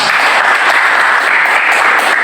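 Classroom applause for a student group's presentation, a loud, dense, continuous wash of many hands clapping close by, steady throughout.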